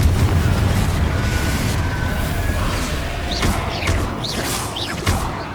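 A Confringo fire spell blasts in Hogwarts Legacy gameplay on Xbox One, a booming burst set against constant rumbling game noise, followed by quick whooshing, chirping magical effects near the end.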